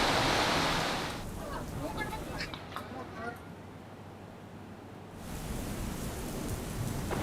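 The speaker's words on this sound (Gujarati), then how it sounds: "પંચમહાલમાં ગોધરામાં ધોધમાર વરસાદ વરસ્યો છે." Heavy rain pours down in Godhra, Panchmahal, with water running across flooded streets, a loud hiss at the start that drops for a stretch before the downpour swells back up.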